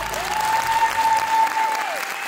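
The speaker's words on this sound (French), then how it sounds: "Est-ce qu'on peut applaudir tout le monde, messieurs, dames?" Audience applause at a staged conference, clapping swelling and easing over a couple of seconds, with a tonal electronic whine running through it.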